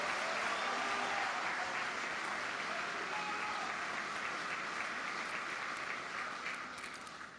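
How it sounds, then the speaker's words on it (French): An audience at a governors' conference in the Democratic Republic of Congo applauds the president, a steady, sustained wash of clapping from a large crowd that tapers slightly at the end. "Je vous prie respectueusement d'applaudir notre premier citoyen"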